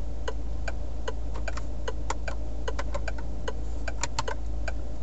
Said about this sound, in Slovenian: poslušajte ta zvok žmigovcev